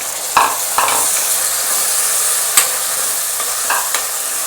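Finely chopped tomato dropped into browned onions frying in a pan, a loud continuous sizzle with several sharp stirring scrapes and clacks spread across the stretch.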